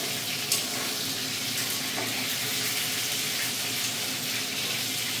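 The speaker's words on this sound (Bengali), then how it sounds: "চিকেনটা ভালো চলছে, এই যে একবার হয়ে গেছে আর একবার দিয়েছি, ভাজা হচ্ছে।" Chicken pieces frying in a pan at home, a steady dense sizzle and crackle that runs continuously and fairly loud, with one brief sharp click near the start.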